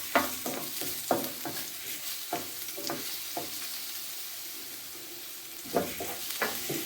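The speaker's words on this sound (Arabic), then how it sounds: "نديروا نص ديال الثومه، نخليوها تتشحر شويه" Garlic sizzles in hot oil in a pan for a seafood paella, a steady frying hiss broken by repeated scraping knocks of stirring, close and moderately loud.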